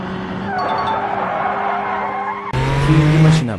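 Chevrolet Monza in BeamNG.drive, its engine droning steadily before a sudden cut to loud, sustained tire squeal and skidding, alone without talk.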